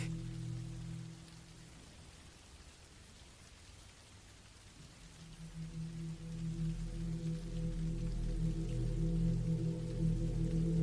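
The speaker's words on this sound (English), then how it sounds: "The rain came down harder than I expected." Steady rain falls on a surface, building gradually louder over about eleven seconds with a low rumbling undertone like distant thunder, continuous and enveloping with no voices.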